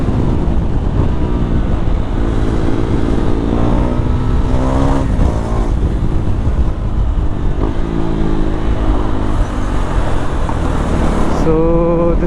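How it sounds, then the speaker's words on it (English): KTM Duke 390 motorcycle on a night ride through heavy Dadar city traffic: a loud, close, continuous engine drone with rising and falling revs, wind buffeting and surrounding road noise, no talk. "So this is some peak Dadar traffic"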